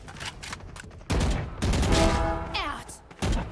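Vandal rifle fire in a Valorant match, with loud short bursts of shots at the start and the end, a quieter stretch in between, and talking over part of it.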